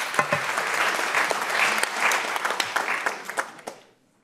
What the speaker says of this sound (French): je pense que nous pouvons l'applaudir